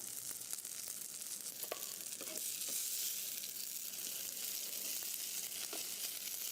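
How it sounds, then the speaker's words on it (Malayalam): A chicken burger patty frying in oil in a pan, giving a steady, bright sizzle with scattered small pops and crackles close up. "പിന്നെ നമ്മുടെ ഹംബർഗർ ഫ്രൈ ചെയ്തെടുക്കാം ഒരു പാനിൽ കുറച്ച് ഓയിൽ വെച്ചിട്ടുണ്ട് ഫ്രൈ ചെയ്യാൻ"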